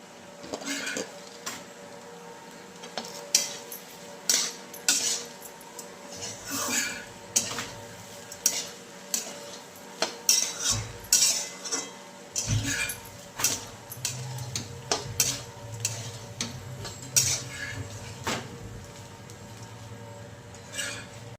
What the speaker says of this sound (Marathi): तिखट टाकून आता व्यवस्थित हालून घेतले आता शेंगदाण्याचं टाकते